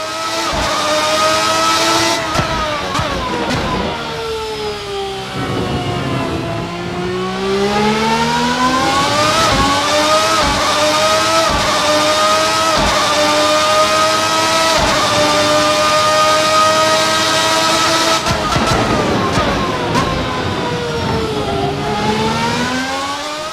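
A 1990s V12 Formula 1 car engine in the Assetto Corsa racing sim screams loudly and continuously, its pitch climbing and dropping sharply through repeated gear shifts and downshifts, with no talking.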